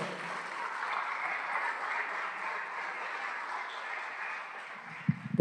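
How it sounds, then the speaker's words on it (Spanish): Steady applause from a conference audience at a national public budget seminar in Argentina, welcoming an economist to the podium; broad, even clapping from many hands throughout, with a few louder knocks near the end. "Lo recibimos con un fuerte aplauso"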